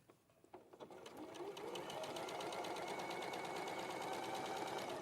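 A sewing machine understitches the neckline lining of a dress, starting with a few soft handling noises and then settling into a steady, fast, even whirring hum of stitching up close.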